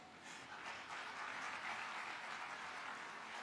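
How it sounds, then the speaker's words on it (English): Audience applause at a school Founders Day celebration, a soft, distant, steady wash of clapping that holds evenly throughout. "That deserves a round of applause."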